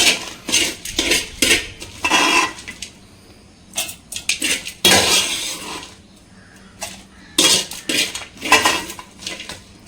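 Metal and ceramic clatter in short bursts as a spoon scrapes parandai chutney from a pan into a mixer jar, with pauses between scoops and no talking.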